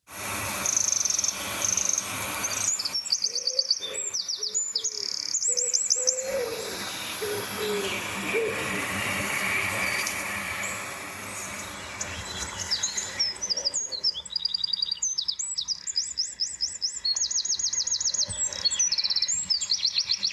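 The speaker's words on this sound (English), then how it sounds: "here, listen to some birds chirp" Recorded bird chirps and hooting calls play back through monitor speakers as a test sound, bright repeated twittering phrases at the start and end with softer calls and ambient hiss between.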